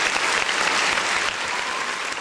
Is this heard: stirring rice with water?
no